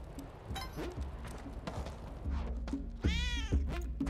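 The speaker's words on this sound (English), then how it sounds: "There's a pet. I love that kitty cat." A pet cat in the video game Spelunky 2 gives several soft meows over quiet game sounds and footsteps, with a longer, clearer meow near the end.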